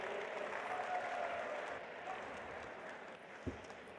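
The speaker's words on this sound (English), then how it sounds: "Please, a big round of applause for Tom and Chris." Applause from the audience at a Nothing Phone 2a launch event, a broad, fairly distant roar of clapping from a large crowd that holds steady and slowly thins, with one sharper knock near the end.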